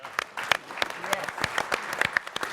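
An audience claps in a loose scatter of sharp hand claps that rise and fall unevenly, fairly close, with a voice speaking over part of it.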